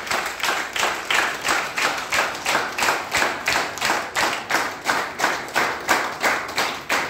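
Audience welcoming guests on stage claps together in a steady unison beat, about two to three firm claps per second, loud and close, with no talk over it.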